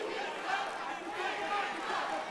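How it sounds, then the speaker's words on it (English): Crowd at a big top fight arena chanting in support of a fighter during a live bout, a steady, dense roar of many voices sustained throughout without breaks. "The crowd getting behind the Kabenda boy with the chants here in the big top arena."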